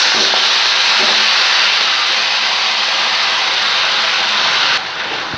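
Tamarind juice poured into a hot pan for packet pulihora, giving a loud, steady hiss of sizzling that holds for about five seconds and then drops off, with no talking.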